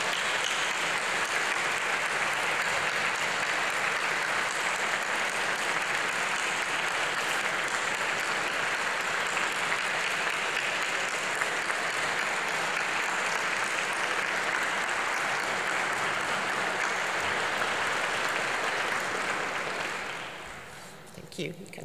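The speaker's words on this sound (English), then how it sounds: "So if you could stand up and applaud your family and friends for all the support they've given you." Graduates at an Open University degree ceremony in Manchester give sustained applause, a dense and even roar of clapping from a large crowd that carries on for about twenty seconds and then fades out.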